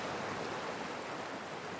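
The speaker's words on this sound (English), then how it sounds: "here's a lovely waterfall ASMR posted by YouTuber Naturezilla. It's the Dragon Falls in China." Dragon Falls in China pours as a steady, dense rush of falling water, close and continuous, with no voices.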